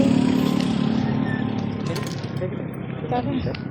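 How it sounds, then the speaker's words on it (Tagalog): A motorcycle engine rumbles nearby on a campus road in Quezon City, a steady drone that slowly fades as the bike passes, while people talk in the background. "Wait lang, may motor."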